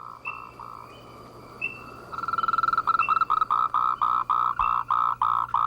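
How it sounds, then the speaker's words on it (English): Frogs including Moltrecht's green tree frog calling in a Taiwanese wildlife reserve, a loud nearby series of rapid pulsing notes building into an insistent rhythmic chorus, with fainter chirps earlier. "The frog's calls are insistent, pulsating, sometimes nearby on the ground,"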